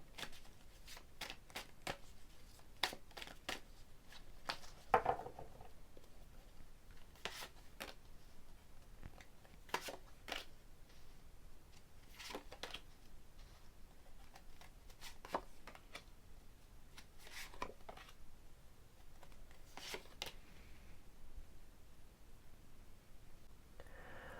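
Soft, quick riffling bursts of cards being shuffled repeat at intervals, faint and close, with no talking.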